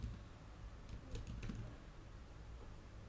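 A few soft, scattered keystrokes tap on a computer keyboard, faint and sparse against a quiet room background.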